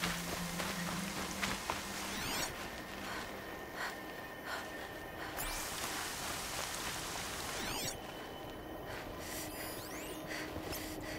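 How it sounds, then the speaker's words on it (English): Rain falls steadily in the video game Horizon Zero Dawn, a continuous soft hiss with a few brief swishing whooshes over it, nobody talking. "Some rain."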